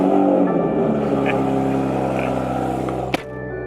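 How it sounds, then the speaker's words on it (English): Tuned A90 Toyota Supra engine with a downpipe idling steadily after start-up, a close, loud, rough harmonic drone with a sharp click near the end. "That downpipe gives this thing a crazy sound."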